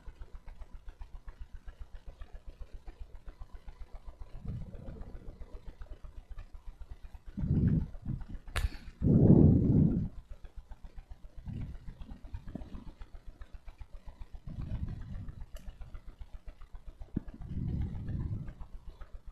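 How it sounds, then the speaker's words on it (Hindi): A tractor-like engine runs in the background with a low, steady idling rumble throughout, faint and distant, with louder bumps and a brief clatter here and there. "ट्रैक्टर चल रहा है ऐसा।"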